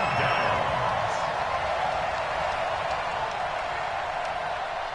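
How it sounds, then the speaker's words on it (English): A stadium crowd in a PS4 football video game roars and cheers in a continuous, dense wash of noise that stays loud and steady from start to finish. "this crowd loves it as their guys hold on the opening drive"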